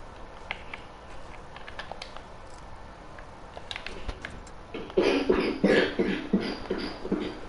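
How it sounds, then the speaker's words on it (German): A brother coughs hard in the background of a Fortnite livestream, a cluster of harsh, rough coughs rising late against a quiet room. "Mein Bruder hustet hier so hart"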